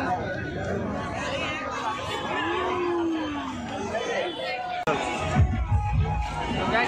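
A loud festival crowd at the Karma puja dance at Karamtoli chowk in Ranchi, steady babble of many voices with a sharp thump midway followed by rhythmic low beats.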